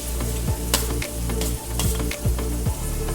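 Sliced capsicum frying in a hot pan for a paneer kulcha filling, a steady close sizzle with brief scraping stir strokes every half second or so, no voices.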